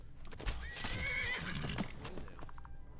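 A horse in the Skyrim video game whinnies loudly in a rising, shaky neigh, with hoof clops and thuds around it and a short snort as it settles.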